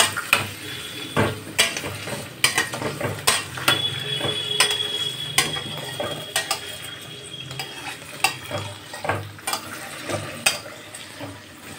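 Bay leaves fry in a pan for a chicken curry, a steady sizzle broken by repeated sharp clanks and scrapes of a spoon against the metal, close and busy throughout.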